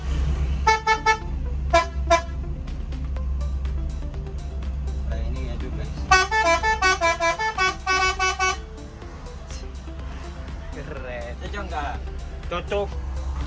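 Loud bus horn honking from a bus being driven, in repeated bursts: a few short toots, then a longer rapid string of honks, over a steady engine rumble with people talking nearby.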